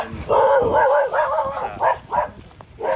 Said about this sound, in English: Dog sounding off.